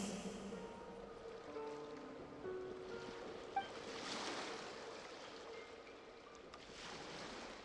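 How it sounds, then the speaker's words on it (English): Ocean waves roll and wash in the video game Tapirus Somniator, a steady broad surf hiss with swells that rise and fall, heard alone with no talk. "Go to where you can hear the sound of the waves."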